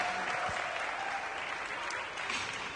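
A home crowd applauds after an ice dance free dance at a junior figure skating competition, sustained arena clapping that fills the space evenly and stays loud throughout.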